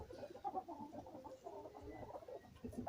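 Three hens cluck softly and continuously, a close, low murmur of overlapping clucks while they guard their eggs.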